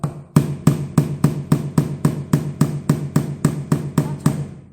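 A hammer drives a nail in about fourteen evenly spaced, sharp close strikes with a steady rhythm, with no voices over it.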